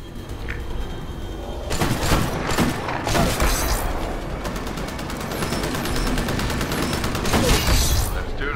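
Sniper rifle fire in a video game, with sharp shot cracks and booming reports breaking through a dense bed of game noise and rapid automatic-fire rattles, loud and close throughout.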